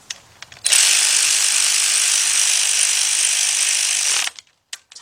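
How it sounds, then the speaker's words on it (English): A cordless ratchet on a 3/8-inch drive socket and extension tightens bolts during a Nissan head gasket job, one continuous high whirring buzz for about three and a half seconds, close and loud, with small clicks before and after. "got my cordless ratchet here"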